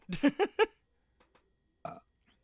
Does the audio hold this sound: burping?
yes